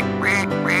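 A sung duck imitation: a voice quacks repeatedly in a bouncy children's song about animals, two rising quack syllables over steady musical backing, loud and close.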